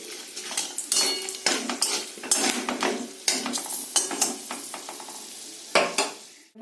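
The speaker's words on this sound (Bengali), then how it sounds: "এবার তেলের উপরে ফোড়ন দিয়ে দেবো" Whole spices, including cinnamon, a bay leaf and a dried red chilli, hit hot oil in a pan and sizzle sharply. Repeated close metal scrapes and clinks of a spoon stirring run throughout, with no talk.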